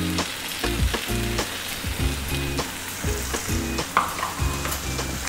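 Crab roast masala with crushed chilli being stirred in a pan, a steady sizzle under repeated scraping strokes of a spoon against the pan, close and fairly loud, with no talking.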